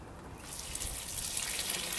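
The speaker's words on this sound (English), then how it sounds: "I'm going to put a little bit of water" Water poured from a container into a small hole dug in allotment soil, a steady close trickle that swells slightly louder over two seconds, with no talking.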